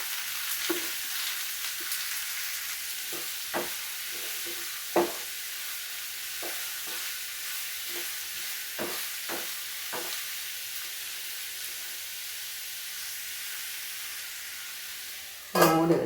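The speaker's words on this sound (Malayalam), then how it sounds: "കടുക് പൊട്ടിച്ച് അരിഞ്ഞു വെച്ചിരുന്ന സവാള ഇട്ട് കൊടുത്തിട്ടുണ്ടെങ്കിൽ നല്ലതുപോലെ ഒന്ന് വാട്ടിയെടുക്കാം." Sliced onions frying in hot oil after popping mustard seeds, a steady close sizzle broken by scattered clicks of stirring and a louder scrape at the end.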